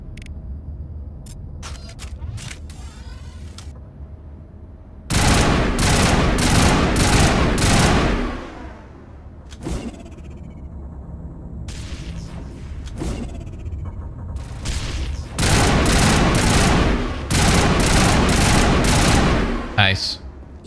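Bursts of assault rifle fire in the Mass Effect video game, loud sustained volleys in two long stretches with shorter shots between, a dense crackle of automatic fire over a low game ambience.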